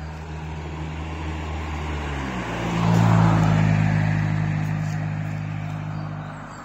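A car drives past on a road beside a flooded river near Divnomorsk, its engine rising out of a steady low motor hum to a broad peak midway, then fading slowly.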